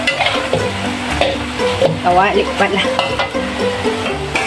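Pork adobo frying in oil in a pan, a steady loud sizzle with repeated scraping and clanking as it is stirred, while a person talks briefly over the cooking.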